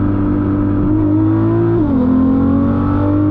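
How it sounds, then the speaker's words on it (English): A Nissan GT-R engine drones loud and close from inside the car as the driver presses the gas, its pitch holding steady then stepping up and shifting in a sustained rev. "That's no anti-lag. That's just me hitting the gas."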